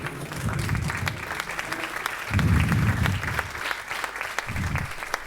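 An audience stands and applauds a speaker being introduced, loud, dense clapping that swells and continues for several seconds, with some murmured voices underneath.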